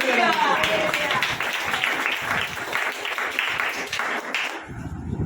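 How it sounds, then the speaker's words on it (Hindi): A congregation at a Hindi Christian service claps together, a loud rapid run of hand claps with voices mixed in, cutting off abruptly near the end as speech resumes. "ताली बजाना।"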